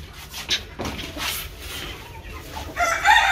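Fancy breed chickens clucking and a rooster crowing faintly amid farmyard background noise at a poultry seller's farm, with a brighter burst of calls toward the end.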